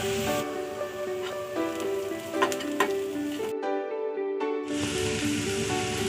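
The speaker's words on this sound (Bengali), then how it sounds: "আবারও ভেজে নিব।" Chopped green chilli and dried chilli fry in a hot pan for masala chicken, giving a steady close sizzle with stirring scrapes; the sizzle cuts out briefly near the end, then returns.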